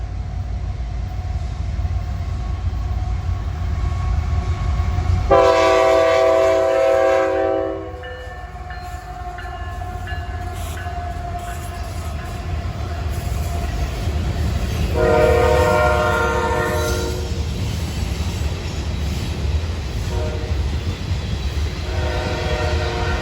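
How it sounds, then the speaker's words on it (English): An eastbound CSX freight train rumbles past the railroad depot at Kenova, West Virginia, sounding two long horn blasts over a continuous low roar, with a shorter third blast near the end. "CSX train coming. So he's eastbound"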